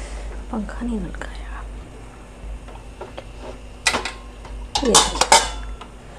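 Ceramic plates from a dishwasher clink and clatter as they are handled in a home kitchen, with a few sharp knocks near the end, under someone speaking softly in Hindi.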